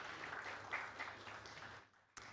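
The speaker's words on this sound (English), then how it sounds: "another round of applause for these wonderful collaborations" An audience at a forum gives a brief round of applause for partner collaborations; soft, fairly distant clapping that fades toward the end before a sudden short noise cuts in.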